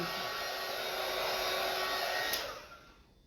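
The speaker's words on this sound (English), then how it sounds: "I am going to take my little dryer to this just to make sure that they're dry" A small hair dryer blowing on wood biscuit flowers, a steady close whooshing whir that holds for a few seconds and then winds down as it is switched off.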